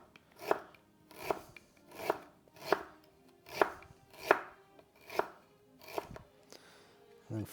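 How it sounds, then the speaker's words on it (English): A knife slicing a vegetable into thin slices on a board, about nine evenly spaced crisp cuts at a steady rhythm, close and clear with no talking. "I'm just gonna slice this into thin slices"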